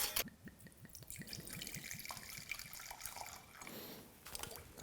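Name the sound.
pouring rum into a measuring cup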